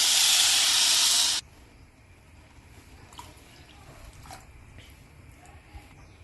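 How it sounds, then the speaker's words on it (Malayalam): A loud burst of hissing as milk is poured into a hot pan for oats pongal, cutting off sharply after about a second, followed by quiet faint clinks. "ആദ്യം 1 കപ്പ് പാൽ ഒഴിക്കാം"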